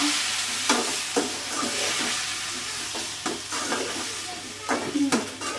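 Chopped tomatoes sizzling in a hot pan for a peanut chutney, with a spoon scraping and stirring in repeated short strokes over a continuous frying hiss, close and moderately loud.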